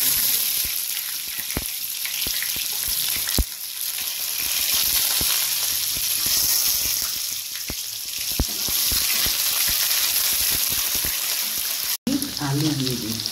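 Potatoes frying in hot oil in a kadai, a continuous close sizzle and crackle with occasional sharp pops and stirring scrapes, a voice briefly heard near the end.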